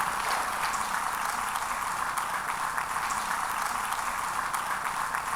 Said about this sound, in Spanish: Si le va a dar un aplauso, déle un aplauso de a de veras